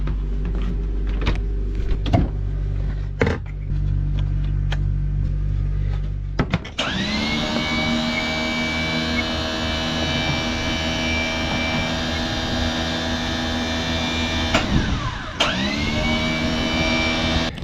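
Refurbished boat anchor winch motor running on 24 V after battery reconnection, a steady electric whine that starts abruptly, runs continuously, stops briefly and restarts, loud and close with no talk.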